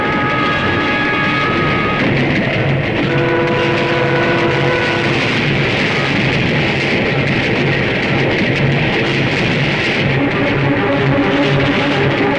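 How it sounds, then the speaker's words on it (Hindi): Loud continuous rumble and roar of a train rushing past without stopping, steady and dense throughout with faint tonal whines on top, no voices. "अरे ये क्या, ये ट्रेन रुकी क्यों नहीं?"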